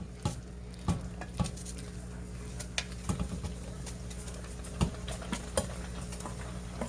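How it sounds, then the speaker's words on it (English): Cooked noodles stirred into cheese sauce for homemade mac and cheese, with soft wet stirring and scattered utensil clinks against a pot, a few sharper knocks standing out over steady kitchen hum. "So now we're gonna just add our noodles."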